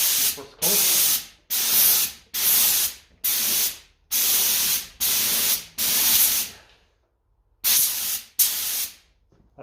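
Short bursts of spray paint hiss close up onto 1954 Ferguson TEF 20 diesel tractor wheel rims for a first coat, about ten evenly spaced loud sprays separated by brief pauses, with a longer gap near the end.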